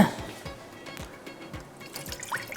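Water fills a cooking pan on the stove, four glasses poured in with a liquid splash and gurgle, while a person talks over it.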